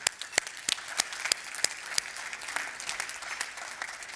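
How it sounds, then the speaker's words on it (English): Gala audience applauding at a Parkinson's charity fundraiser, a dense wash of hand claps with a few sharper claps standing out near the start, steady and moderately loud, with no talk over it. "One more round of applause."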